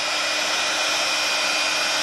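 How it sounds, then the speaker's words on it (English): A heat gun blowing for heat embossing on a card: a loud, steady, close rushing hiss of hot air that holds unchanged throughout. "start off high with your heat gun and gradually go in."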